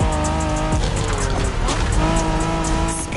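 Engine of a 1990s Honda NSX sports car in a racing video game, a loud sustained roar with shifting pitch and tire squeal, continuous throughout with no talk.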